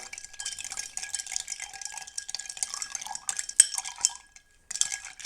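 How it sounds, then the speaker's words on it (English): A Godfather cocktail of Scotch and amaretto stirred in a glass with a bar spoon, giving a steady run of light metallic clinks and rattles against the glass, close and alone, pausing briefly near the end. "And you give it a good stir."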